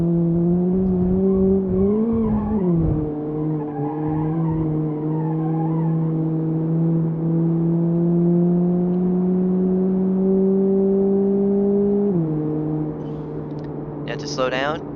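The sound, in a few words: car engine revving to redline, from video game BeamNG Drive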